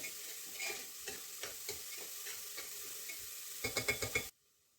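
Onion sautéing in a pan for dal khichdi: a soft, low sizzle with regular stirring scrapes, then a quick run of louder scrapes before it stops abruptly.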